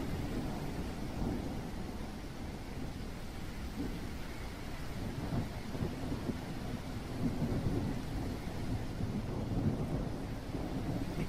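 A thunderstorm in The Isle Evrima rumbles on with constant heavy rain and low rolling thunder swelling slightly toward the end, steady and immersive with no voices.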